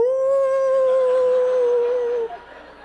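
A voice imitates neighborhood dogs howling, one loud sustained wavering howl held for about two seconds before breaking off.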